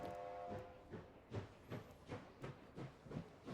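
Train running in the Last Train Home video game, faint rhythmic clickety-clack of wheels on rail joints, repeating roughly every third of a second over a low rumble.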